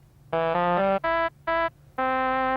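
Sustained Mellotron trumpet tones played in short phrases, a long note, two shorter bursts and another long held note, bright and clear with no talking.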